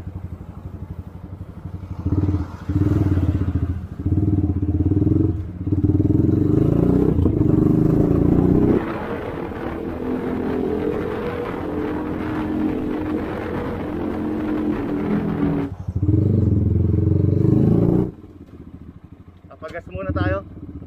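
Rusi Sigma 250cc motorcycle engine running steadily with throttle blips, a loud close drone that rises and falls through several revving surges before cutting back near the end, with a voice talking over part of it.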